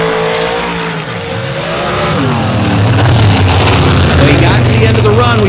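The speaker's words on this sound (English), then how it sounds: "Rick George had to make a backup pass in his Outlaw Pro Stock machine" An Outlaw Pro Stock drag racing car makes a pass at an MRA championship round, its engine roaring loud and steady with rising pitch as it accelerates, under a continuous wash of crowd and track noise.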